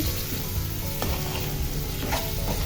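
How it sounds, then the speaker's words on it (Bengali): Rohu fish pieces sauté in hot oil with a steady, dense sizzle and crackle, joined by occasional stirring scrapes, close and continuous with no talk. "মাছটা দিয়ে দিচ্ছি। দিয়ে তেলের সাথে একটু কষিয়ে নিচ্ছি।"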